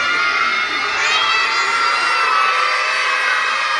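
A crowd of primary school children at a school Christmas gathering shout together in response, a loud sustained roar of young voices.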